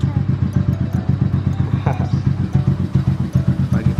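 A motorcycle engine idles while warming up in the morning, a steady close, loud chugging pulse throughout.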